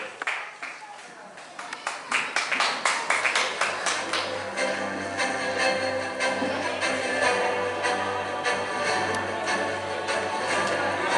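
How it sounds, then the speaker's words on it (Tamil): Audience at a media college launch and excellence award event in a banquet hall starts with a few distinct claps that build into sustained, full applause, steady and moderately loud with music underneath. "எங்கே உங்களுடைய உற்சாகமான கரகோஷம்."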